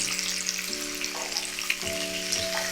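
Thick-cut beef steak, 3-4 cm thick, sizzles on a covered barbecue grill with a constant close crackle, while steady tonal hums shift pitch underneath.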